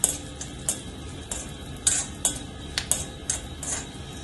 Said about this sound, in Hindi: ये भी थोड़े थोड़े ब्लास्ट हो रहे हैं, आवाज आप सुन ही पा रहे होंगे।